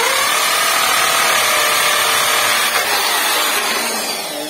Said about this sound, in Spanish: vemos que entre la agujereadora bien